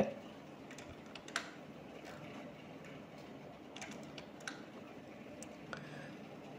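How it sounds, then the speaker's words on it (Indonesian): Ctrl Z pressed on a computer keyboard while working in Excel: a few faint, sparse key clicks over a quiet room hum. "kita ulang lagi dengan menekan Ctrl Z"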